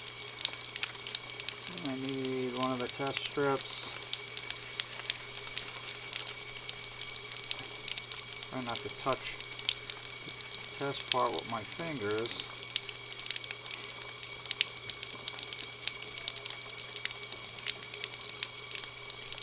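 An off-grid homestead well pump runs while water flows through it, a steady hiss with a constant low hum beneath a person talking.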